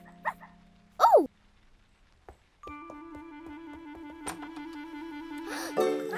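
Cartoon dog giving a brief bark and a rising whimper, followed by a bright musical jingle and another short yelp near the end.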